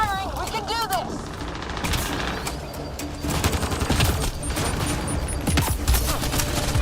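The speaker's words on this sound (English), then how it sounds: "Just keep firing." Rapid gunfire and bursts of weapons fire sound during a combat firefight in the video game Mass Effect: Andromeda, dense and continuous, with characters shouting over the shooting.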